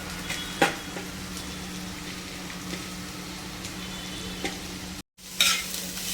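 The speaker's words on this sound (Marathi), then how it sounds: "आता कांदा टाकून घेऊ आपल्याला कांदा छान असा भाजून घ्यायचा आहे" Onion frying in hot oil on a tawa, a steady moderate sizzle with a few sharp stirring clicks, a brief dropout near the end, then the frying resumes without any voices.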